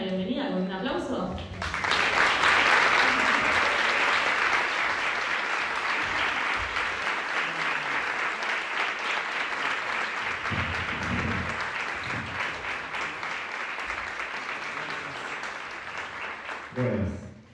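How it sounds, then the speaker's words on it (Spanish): An audience claps in welcome for a guest actor at a talk, a dense round of applause that swells suddenly, holds steady and gradually fades, with a voice speaking briefly before and after. "Le damos la bienvenida con un aplauso."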